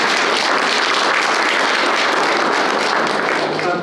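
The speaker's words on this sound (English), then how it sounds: "we might give him a round of applause" Steady applause from a ceremony audience at a university history department student recognition event, honouring an award recipient who is not present; dense, even clapping from many hands holds throughout without voices.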